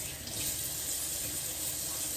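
Water from a kitchen tap runs steadily into a sink as hands are washed under it, a continuous close splashing rush with no talking.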